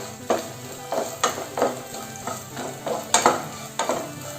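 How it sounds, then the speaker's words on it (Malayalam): Pieces of coconut frying in a pan on low heat for a Kerala-style pazham pradhaman, with a steady sizzle and repeated scraping stirs at a fairly regular rhythm, close and clear with no talk. "തേങ്ങാക്കൊത്തും കൂടെ നമ്മൾ ഫ്രൈ ചെയ്തെടുക്കാൻ പോകും"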